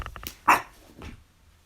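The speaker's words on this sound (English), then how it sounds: "I don't need you barking. Stop barking." A dog gives one short, sharp bark followed by a softer second yelp, both moderately close.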